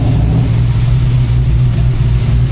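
LT5 engine in a Camaro with a sequential gearbox at a car show at Dover Motor Speedway, a loud, low, steady rumble held close by without breaks or talking.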